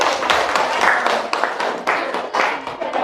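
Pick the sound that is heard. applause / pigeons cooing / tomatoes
applause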